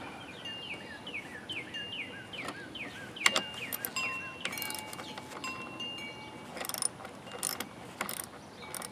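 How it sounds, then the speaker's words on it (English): Screw being tightened into a sagging fence during a repair, heard as a run of close ratcheting, clicking mechanical turns with scattered knocks, birds calling faintly outdoors behind it. "So now I'm going to tighten this screw down because I think I have this good to go."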